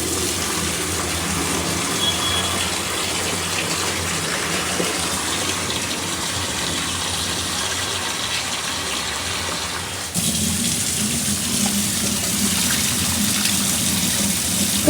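Water is poured or runs steadily for cooking, a continuous close gush that grows fuller and louder partway through, with no talk.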